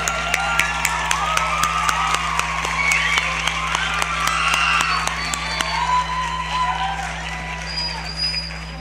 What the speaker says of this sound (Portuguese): Queria pedir que a gente desse uma salva de palmas para ela.